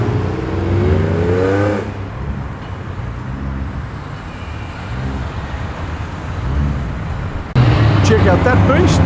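Modified cars, including a Holden Commodore Calais, rev and accelerate as they leave a car show in Penrith, with engine roars rising and falling against road and wind noise.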